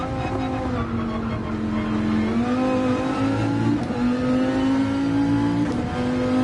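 A Corvette race car in Gran Turismo 7 holds a loud, steady engine drone close up, with its pitch stepping through quick gear shifts and climbing again as it accelerates.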